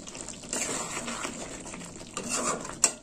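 Tomato chicken curry being stirred in a pan, a soft, faint wet scraping and shuffling with a brief clink near the end, close by and without any talk.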